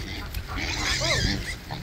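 Small piglets on a farmstead grunting and squealing softly, a low, continuous jumble of snuffly calls with a few rising squeaks, with rain starting in the background.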